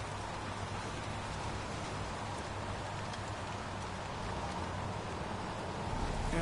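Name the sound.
rain in video game Heavy Rain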